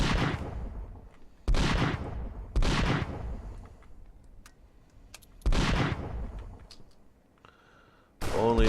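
Gunshots from the video game Sunset Rangers, where bandits are shot among townsfolk and Union soldiers. Four or five sharp, loud reports come at irregular intervals, each trailing off into quieter game ambience, with a few faint ticks between.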